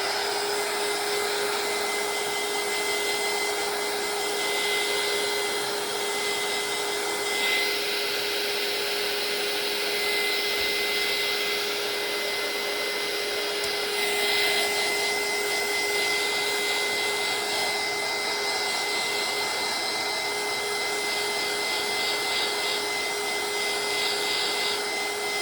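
A dryer whirring steadily at close range while drying a mixed media journal page, a continuous even hum and airy rush with slight shifts in tone, and no voices.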